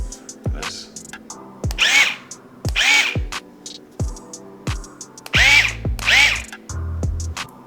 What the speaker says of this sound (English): So today I'll be grinding up some fresh dill